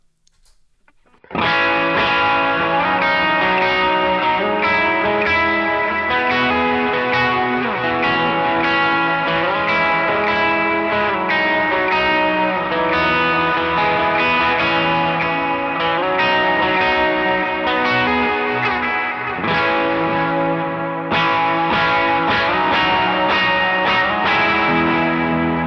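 A distorted electric guitar through an amp with wet effects, echo, chorus and reverb, strums chords and riffs continuously after a brief quiet start, loud and washed with ambience, no voices.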